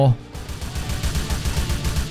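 Rapid automatic M4 rifle fire in Grand Theft Auto IV, a steady stream of close, punchy shots in fast rhythm after a brief opening sound.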